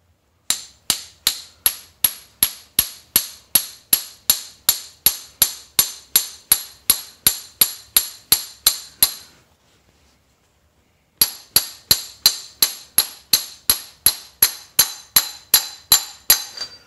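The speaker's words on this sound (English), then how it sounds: "I'm gonna use my 4-ounce hammer for this one," Sharp, evenly spaced metallic taps from a 4-ounce hammer seating a speedy sleeve on a 1985 Toyota Tercel 4WD engine crankshaft, about two per second, close and crisp, with a short pause midway before the tapping resumes.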